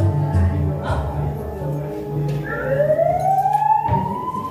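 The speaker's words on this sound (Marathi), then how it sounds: "आलीच की पोलिसांची गाडी." A police car siren rises in a sweeping wail, growing louder over a few seconds above low background rumble.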